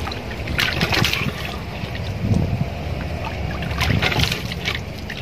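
Well water splashes and trickles as hands scoop it up to wash a face at an old Dutch-era well in Kerkhoff, Tegal, with several bursts of splashing over a steady outdoor background.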